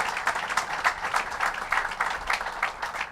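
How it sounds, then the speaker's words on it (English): A crowd at a Long Island government announcement in Hicksville claps for a local leader, moderately loud, uneven clapping lasting about three seconds. "let's give Lionel Chitty a big round of applause for his great leadership"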